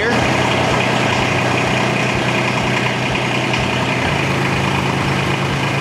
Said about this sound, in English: Hear the engine go low under load